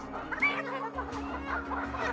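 Chickens cluck in short, irregular bursts during debeaking and vaccination, close and fairly quiet over a low mechanical hum.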